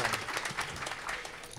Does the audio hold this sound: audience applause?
yes